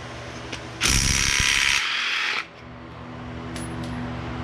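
A hand ratchet works 10mm bolts loose on the engine of a 2000 Ford Expedition during an engine replacement. A loud, close burst of rapid clicking lasts about a second and a half, then stops sharply, leaving quiet shop background.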